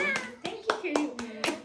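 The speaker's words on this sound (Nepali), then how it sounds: "ल ताली बजाउँछु ताली ल" Hands clapping at a child's birthday celebration, a run of quick sharp claps in an even rhythm, close, mixed with a voice talking.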